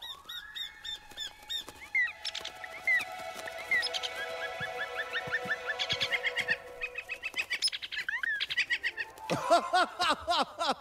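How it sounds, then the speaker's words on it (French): Birds twitter in rapid, high chirping calls, some honk-like squawks among them, dense and close throughout, busiest near the end. "J'entends que des gazouillements."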